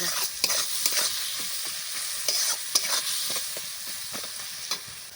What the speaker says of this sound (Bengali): দেখো বন্ধুরা আমার পেঁয়াজ আর রসুনটা ভাজা হয়ে গেল